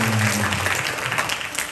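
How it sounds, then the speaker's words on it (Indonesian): Applause at a religious school demonstration in Bangil, a dense burst of clapping from a group that starts strong and tapers slightly, with a brief tonal hum at the very start. "Kasih tepuk tangan"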